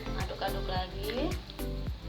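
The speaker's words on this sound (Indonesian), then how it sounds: "Aduk lagi" Sayur asem vegetable soup stirred in a pot, a few rhythmic scraping strokes over a soft sizzle, with a voice speaking underneath.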